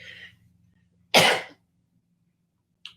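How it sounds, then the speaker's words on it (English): A single sharp, loud sneeze bursts out in a quiet room, with faint murmurs before and after. "sorry, I'm going to sneeze again."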